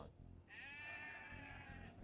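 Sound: sheep bleating in video game Age of Empires II

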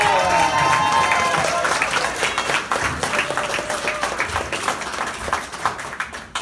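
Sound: audience applause for the congressman

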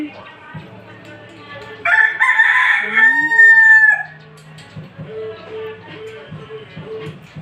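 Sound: fighting rooster crowing

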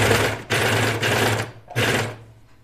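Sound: serger sewing a T-shirt sleeve seam

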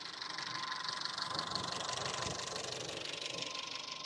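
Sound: used car engine idling

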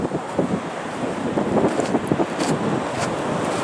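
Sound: wind by the sea

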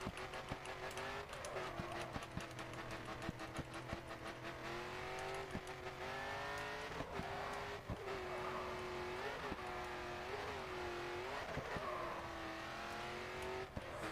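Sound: race car accelerating in the video game Grid

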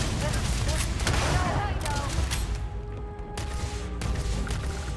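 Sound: grenade thrown and exploding in video game Starfield

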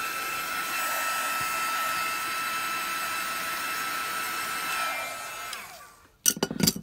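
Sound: heat gun blowing on paper book pages

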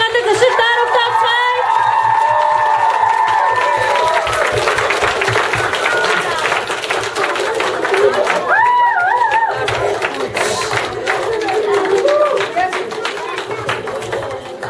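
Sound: audience applause and cheering

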